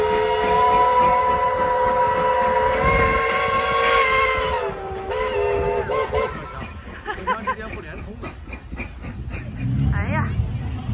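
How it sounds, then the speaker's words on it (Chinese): An old-fashioned steam train at a New Zealand heritage ride gives a loud, sustained whistle for about five seconds, followed by rumbling and chuffing at close range while people talk nearby. "参与这次活动的呢有两部老式的蒸汽火车"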